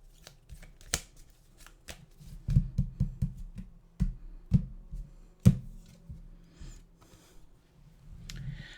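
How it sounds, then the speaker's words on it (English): A deck of animal oracle cards shuffled by hand: soft, close riffling and tapping bursts with scattered clicks, fairly quiet throughout. "we'll go to our animal card here and see who we get."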